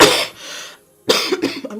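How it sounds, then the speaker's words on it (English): A woman coughs, two or three harsh close bursts separated by a short pause, with no speech around them. "I'm just having cough."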